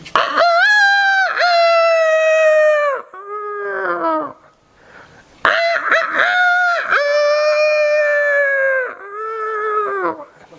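A man imitates a rooster crowing, two long, loud drawn-out cock-a-doodle-doo calls with a rougher, breathy break between them, close and alone without other talk.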